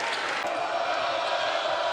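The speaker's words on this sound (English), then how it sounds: "Crowd getting back into it." Basketball arena crowd during a college men's championship game between Kent State and St. Bonaventure, a steady loud roar of cheering voices filling the hall throughout, with no distinct pauses.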